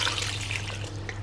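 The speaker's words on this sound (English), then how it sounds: "I'm going to add a drop of water" Water trickles briefly into a pan of homemade curry on the hob, a soft close pour lasting about a second over a low steady hum.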